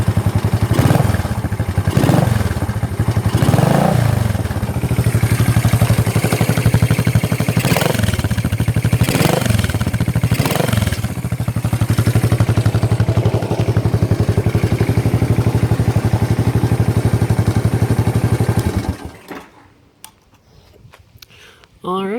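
A 1978 Kawasaki KZ-200 motorcycle engine runs with its baffle fitted: a fairly quiet, steady idle hum with light mechanical clatter that continues for most of the clip, then cuts off near the end.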